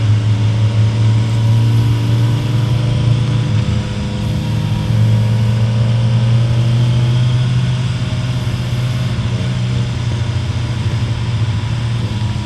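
Suzuki Hayabusa motorcycle engine running steadily for the whole stretch, a loud, continuous low drone with a strong steady hum, heard up close while riding with no speech.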